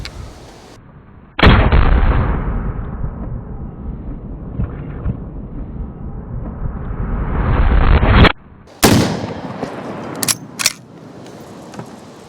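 A single loud, sustained roar dominates for about seven seconds, rising toward the end, and is followed by several sharp close cracks at an outdoor range where an Uberti Cimarron 1873 rifle is fired at exploding targets.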